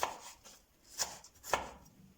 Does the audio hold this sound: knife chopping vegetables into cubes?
yes